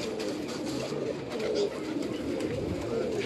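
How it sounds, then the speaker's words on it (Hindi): Flying pigeons with black beaks and purple feet cooing softly and repeatedly nearby, a continuous low murmur of calls, with a voice faintly talking over it. "ये परवाज़ी कबूतर, काली चोंच माशाल्लाह, खुश्क जामनी पंजे"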